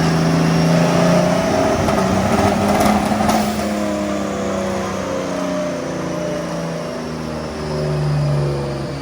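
LS V8 drift car revving hard on a dyno, the engine note droning and wavering as it misfires and breaks up, loud and steady throughout.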